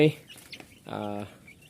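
Chickens clucking at a poultry breeding setup with chicks and fighting cocks, a brief squawk followed by a longer, steady cluck-like call, close and moderately loud, with some faint background noise.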